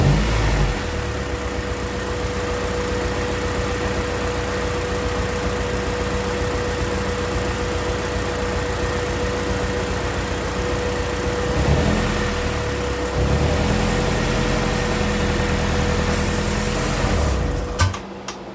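A car engine with low compression and blow-by idles steadily after repair, a smooth continuous mid-pitched running hum with a slight rise near the middle and a brief disturbance at the end.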